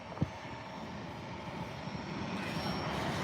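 Japan Airlines airliner at San Diego airport, a steady broadband jet engine roar from a distance, holding fairly constant and swelling slightly toward the end, with a brief thump near the start.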